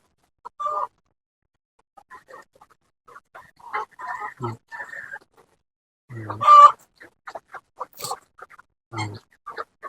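Chickens in grower-stage coops cluck and call in short, scattered bursts against a quiet background, with a few louder squawks standing out.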